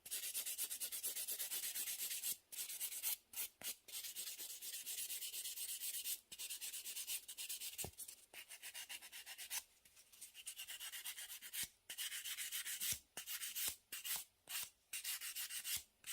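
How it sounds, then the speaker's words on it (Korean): A nail file or buffer rubs back and forth over a fingernail surface during a manicure, giving a continuous close, soft scratchy sanding broken by brief pauses, with no talk. "자, 이렇게 해서 이제 한번 샌딩 작업하고요."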